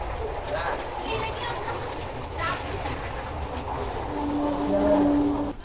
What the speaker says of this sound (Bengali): দেখো ওই দূরে থেকে ট্রেন যাচ্ছে দেখেছো